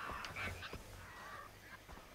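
Wild birds squawk in the Far Cry 3 video game, a few faint, honking calls rising and falling over a soft, constant game ambience.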